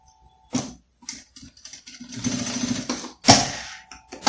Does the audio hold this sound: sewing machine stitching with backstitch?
yes